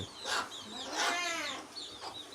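Chickens clucking in a few short bursts nearby, fairly quiet, with brief pauses between calls.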